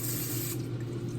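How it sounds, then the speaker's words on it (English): A steady, close hiss of aerosol zero-point butter spray for about half a second, fading into a lower running rush like oil hitting a surface. "I'm just gonna spray a little bit of this 0-point spray butter on it"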